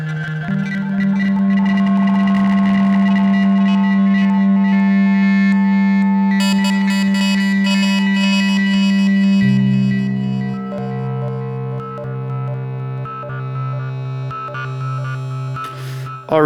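An Elektron Digitone FM synthesizer holds a loud sustained pad whose timbre shifts and grows harsher as the FM algorithm changes, then steps down to a lower droning tone, with no talking.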